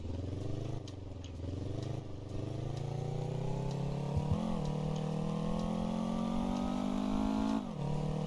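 Motorcycle engine in Motor Town Behind The Wheel, a steady close rumble with rising revs and brief dips at gear changes, heard alone with no talk.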